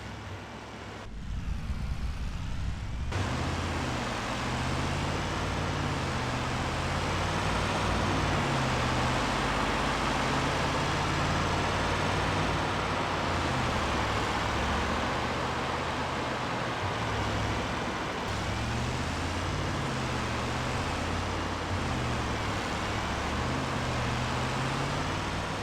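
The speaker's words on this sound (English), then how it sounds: "The sound on this truck is pretty spot on to what an actual diesel truck sounds like as well." A diesel snowplow truck engine drives in Farming Simulator 25, a loud, continuous low rumble that shifts in pitch as it revs and changes gear, with no talk over it.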